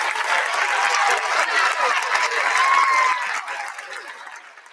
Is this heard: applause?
yes